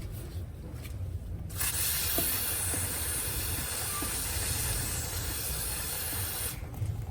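Chain cleaner sprayed from an aerosol can onto a motorcycle chain, a loud continuous hiss that starts after a brief quiet moment, runs steadily for several seconds, then cuts off.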